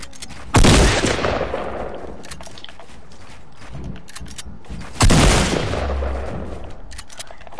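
Two loud, close gunshot blasts from a video game, each followed by a long decaying tail, separated by several seconds of low rumble and faint clicks.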